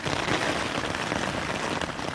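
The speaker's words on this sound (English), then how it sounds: "The rain's getting very heavy now." Heavy rain pouring down in a dense, continuous hiss, drumming steadily on a surface close by, during a winter storm in woods.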